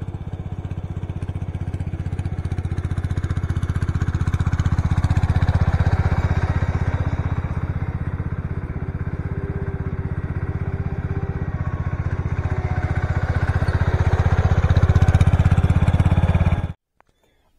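A small Case lawn tractor engine runs continuously at close range with a steady, rough rumble and slight rises in revs before cutting off at the end.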